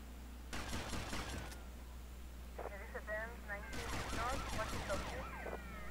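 Gunfire during a rampage mission in the game GTA Vice City, two quick clusters of rapid shots, fairly quiet, over a low steady hum with a siren-like wail and someone talking throughout.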